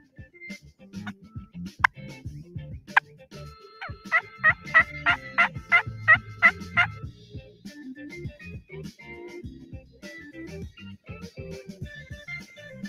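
Turkey gobbles and yelps from a hand-held turkey call imitating a wild turkey during hunting, a run of sharp rhythmic calls in the middle of the clip between scattered softer clucks, close and clear with no talk.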